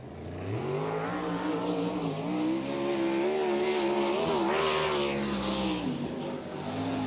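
Sprint cars roaring in a pack as they take the green flag at Lincoln Speedway, a loud sustained engine howl that swells and rises in pitch, with no talking.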